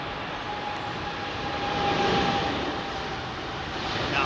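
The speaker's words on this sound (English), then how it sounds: "Power up procedure. Little bit of throttle." A jet airliner at London Heathrow Airport spools up for its takeoff run on runway 27R, heard as a steady, moderately distant engine roar that swells a little through the middle and stays fairly constant with no voices.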